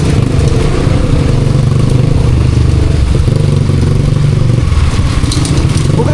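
A motorcycle engine idling loud and close with a steady, even rumble and a faint clatter, continuous throughout with no clear revving.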